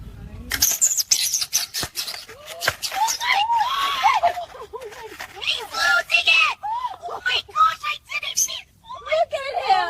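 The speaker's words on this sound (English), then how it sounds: "He's freaking out! Oh my gosh, he's screaming!" A dog screams and yelps shrilly during a bath, in repeated close, high-pitched wails and cries, with people talking excitedly over and between them.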